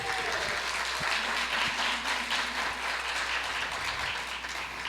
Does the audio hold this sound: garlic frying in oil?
no